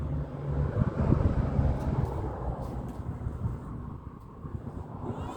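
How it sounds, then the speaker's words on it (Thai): Wind gusting outdoors at a roadside spot where silk cloth is being shown, a steady broadband rush with low buffeting on the microphone, rising and easing slightly over several seconds, with no voices. "เวลาคุณยายมาถ่ายทำทีไรมีลมมาทุกครั้งเลย"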